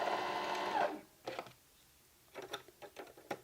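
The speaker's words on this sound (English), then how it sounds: "To do the bobbin, you want to make sure you lock it into place so that when you put your foot on the pedal, it'll actually roll this" Sewing machine winding a bobbin, its motor whirring in a steady continuous run for under a second before stopping, followed by a few soft clicks and handling sounds.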